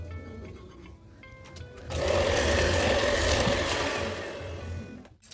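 An electric whisk beating vanilla cupcake batter in a bowl, a steady loud motor whir that starts abruptly, runs for about three seconds and then winds down, with no talk over it.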